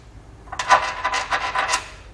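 A metal bolt scrapes and rattles as it is pushed through the drilled holes of a Draw-Tite trailer hitch frame on a 2018 Chevrolet Express, producing a short series of close rasping rubs.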